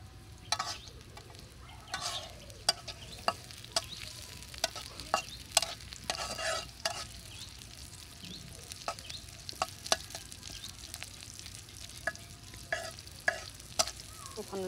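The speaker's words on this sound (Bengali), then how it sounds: "পেঁয়াজ দিয়ে দিলাম। মানে কড়াইটা গরম হয়ে গিয়েছিল" Onions frying in hot oil in a kadai while a spatula stirs them: a steady close sizzle broken by frequent sharp metallic scrapes and clicks, with no voices.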